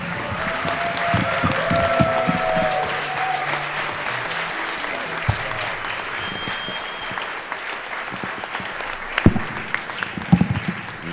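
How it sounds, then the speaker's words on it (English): A crowd applauds speedrunners at a Summer Games Done Quick 2015 charity gaming marathon after a Mega Man 4 race, steady clapping running throughout and thinning toward the end with a few louder scattered claps and faint voices. "One more round of applause for these 2 runners."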